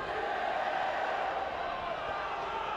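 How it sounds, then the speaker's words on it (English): Millfield pupils singing together in the crowd at a U18 schools rugby final: a steady, distant wash of massed young voices with a tonal, chant-like quality and no single speaker standing out. "it's the Millfield pupils who are singing in the crowd at the moment"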